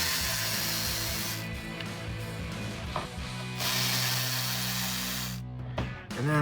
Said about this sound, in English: you're going to want to remove these 2 screws